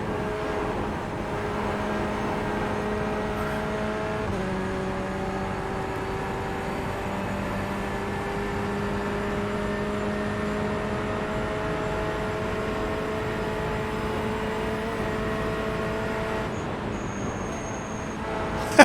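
Steady Corvette C8 engine drone in the iRacing sim, harmonic tones holding and stepping down around a downshift, with a continuous rumble throughout and no talk.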